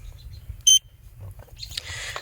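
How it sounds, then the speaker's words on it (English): A multimeter in continuity test mode gives one short, clear electronic beep, followed by faint handling clicks and a light hiss. "we're on our resistance mode, but we're on a continuity beep test"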